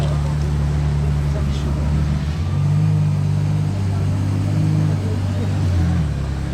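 A Ferrari Monza SP2 arrives on a busy casino square among other supercars. A dense, steady engine rumble holds throughout, with a rising drone as the car approaches, under crowd noise and nearby talk.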